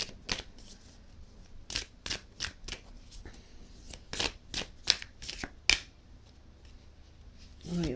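Tarot cards being shuffled up close in a quiet room, with a series of crisp riffling bursts and snaps spread irregularly across the stretch, each short and fairly loud against a faint background.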